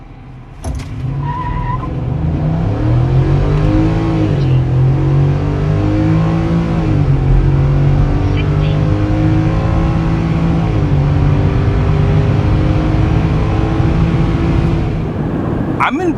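A 2025 Ford 5.0L Coyote V8 with a 10-speed transmission and 3.73 rear gearing accelerates hard from a start, its loud engine note rising and dropping through several quick gear changes, heard from inside the vehicle.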